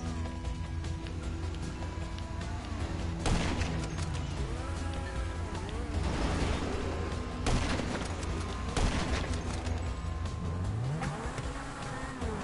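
Sniper gunfire in a PS4 online shooter game, a few sharp cracks standing out over a constant roar of engines and game noise.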